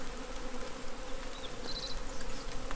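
Bees buzz around up close while being moved by hand into a new spot, a steady insect drone with a few louder passes from individual bees, alone without talk.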